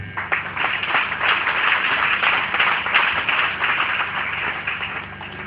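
A congregation at a French-language praise and worship service claps in a steady, fairly loud burst of applause with no talking over it.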